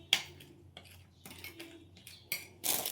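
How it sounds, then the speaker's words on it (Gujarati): Metal spoon scraping and clinking against a bowl while stirring multani mitti and turmeric into a paste, a few distinct close taps and scrapes with quiet gaps between. "આની એકદમ આપણે ઘોરીને આવી રીતે પેસ્ટ બનાવવાની"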